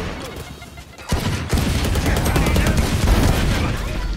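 Gunfire in the shooter game Valorant, a loud close burst of rapid shots that starts abruptly and continues as dense sustained firing.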